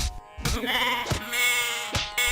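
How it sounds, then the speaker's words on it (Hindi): A goat bleating loudly and close, several drawn-out quavering cries in quick succession with short gaps between. "बकरा बैं बैं करते हुए वहां से चला गया।"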